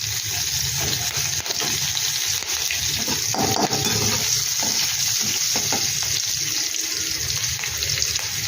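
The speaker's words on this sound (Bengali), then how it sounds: "এবার দিয়ে দিলাম জল" Water poured into a hot pan of semolina tempered with cumin, asafoetida and chopped green chilli, a steady rushing, bubbling hiss with scraping stirring, close and continuous.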